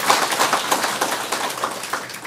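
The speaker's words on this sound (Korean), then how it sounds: "잘 되기를 박수로" Listeners at a Buddhist sutra lecture clap in support of a planned welfare organization, a short burst of dense, close applause from a small gathering, fading slightly toward the end.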